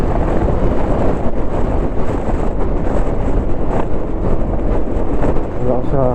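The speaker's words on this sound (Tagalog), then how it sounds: "Lakas ng hangin, ha." Strong wind roars steadily into a helmet microphone while riding a Honda PCX160 motorcycle on the road near Dingalan. The buffeting is dense and loud throughout, covering any engine sound.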